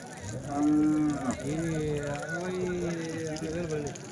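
A cow moos loudly and at length at a cattle market in Chintamani, its low drawn-out call rising and falling close by.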